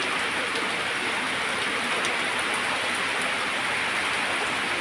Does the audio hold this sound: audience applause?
no